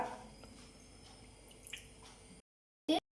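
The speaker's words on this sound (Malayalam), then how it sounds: "അതിൽ അത്യാവശ്യത്തിന് നല്ലോണം പൊരിയാനുള്ള വെളിച്ചെണ്ണ ഒഴിച്ച് കൊടുക്കുക" Coconut oil is poured into a deep frying pan for frying chicken, a faint, soft liquid trickle with small drips, ending in silence and then one brief louder splash.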